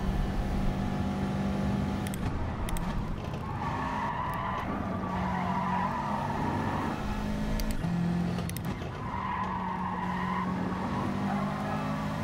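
Race cars in GT Sport running in a big pack, with engines droning steadily and tires squealing and skidding through corners; loud, continuous and close, with no talk over it.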